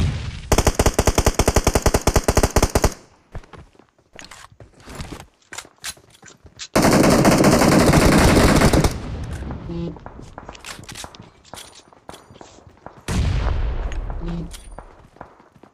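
Full-auto M16A4 rifle fire from BGMI mobile game: loud sustained bursts of rapid shots, with a long burst at the start and another midway, scattered single shots and clicks between, and a final burst fading out.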